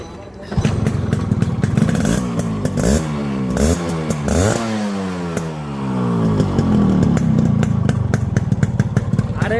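A Yamaha RX 100 motorcycle in fresh condition runs loud and close, its engine revving up and down in repeated swells before settling into a steady, buzzing idle.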